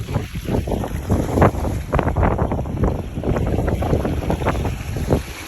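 Wind buffets steadily at the Texas City Dike on the Texas coast, a loud close rumble with gusty bursts battering the microphone throughout.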